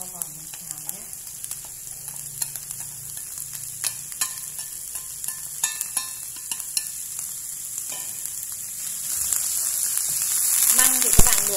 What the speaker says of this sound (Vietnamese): măng các bạn cho vào mình xào nhé.